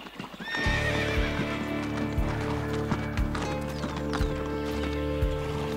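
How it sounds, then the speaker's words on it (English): Wild Brumby horses gallop with rapid, loud clip-clopping hoofbeats, and a sharp neigh rises over them at the start. "horses range from their powerful 45 kilometer per hour gallop to the 20 kilometer per hour canter"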